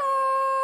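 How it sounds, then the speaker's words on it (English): Cartoon echo of a yodel in the mountains: a clear, sustained, steady sung tone, bright and loud, holding evenly for under a second with rich harmonics. "An echo is the sound you hear when you speak loudly in the mountains."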